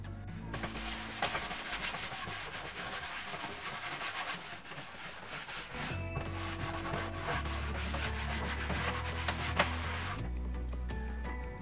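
A rag soaked in turpentine rubs steadily over a wooden dining table being refinished, giving a continuous close scrubbing and swishing with rhythmic strokes and no talking.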